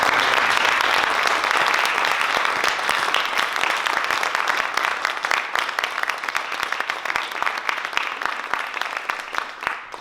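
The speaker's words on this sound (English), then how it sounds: "please give them a hearty round of applause" A school audience claps loudly and steadily for staff at a principal of the year award presentation, a thick wash of applause that thins slowly into scattered claps toward the end.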